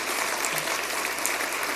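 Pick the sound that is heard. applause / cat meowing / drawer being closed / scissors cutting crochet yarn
applause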